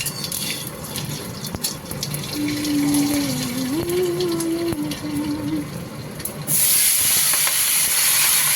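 Malabar spinach drops into hot oil in a wok, giving a steady close hiss and sizzle that swells louder near the end.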